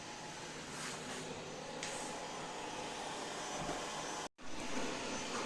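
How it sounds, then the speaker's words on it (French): A 360 S6 robot vacuum cleaner running on a floor, a steady whirring drone with a brief dropout near the end, close and even. "Vous voyez ici la course de l'aspirateur qui est actuellement en train de faire un ensemble de lignes latérales."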